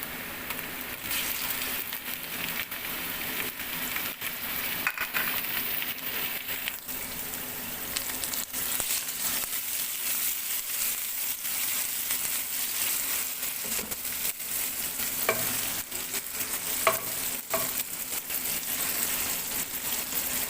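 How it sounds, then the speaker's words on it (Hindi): Tomatoes frying in a pan for stuffed keema karela, a steady soft sizzle with faint stirring scrapes running continuously throughout, no talking. "टमाटर हम डालकर भी ऑलमोस्ट 2 से 3 मिनट्स तक ही भूनेंगे।"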